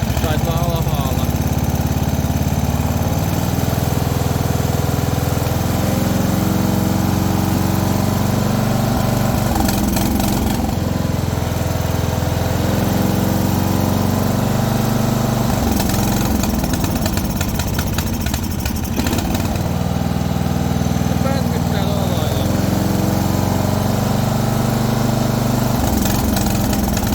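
Partner Caravan 12-100E riding lawn mower engine running steadily and loudly up close, holding an uneven idle with slight surges, while someone talks over it.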